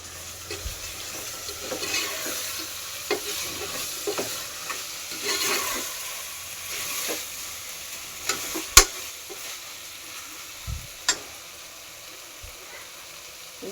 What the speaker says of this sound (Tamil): இது எல்லாம் ஒன்றா சேர்ந்து நல்லா வதங்கும்.